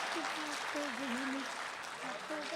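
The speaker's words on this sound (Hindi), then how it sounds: "एक बार और तालियां बजा दीजिए" Audience applause at a Hindi poetry and comedy stage show fills the clip, a steady wash of clapping that runs throughout while a voice talks over it.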